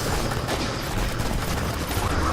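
Steady, dense weapon fire in Destiny: Rise of Iron during a Garden's Spire mission keeps up without a break, loud and continuous with no talk.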